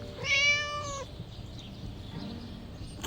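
A single drawn-out cat meow from a video game sounds close and clear, followed by quiet ambient hum with no other noises.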